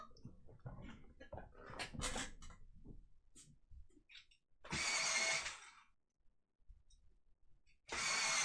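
A pencil sharpener grinds colored pencils, with two loud whirring bursts of a second or so each following a stretch of quieter handling clatter.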